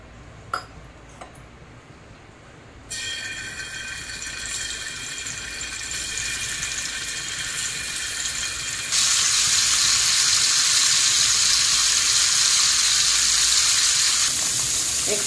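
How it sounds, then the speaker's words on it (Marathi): Marinated paneer sizzles in hot oil on a tawa, with a steady frying hiss that starts after a quiet moment and swells louder partway through, close and continuous. "पनीर आपलं मॅरिनेट झालेलं आहे। आता आपण फ्राय करायचं आहे।"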